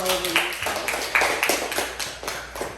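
Classroom applause from a group of students, a dense crackle of clapping close by that swells and eases over a few seconds, with a few brighter taps standing out.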